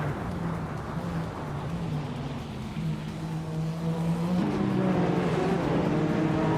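A 2015 SCG 003C and other race cars drone steadily in a racing video game. The engine pitch holds low and even, then rises as the throttle opens near the end, loud and continuous throughout.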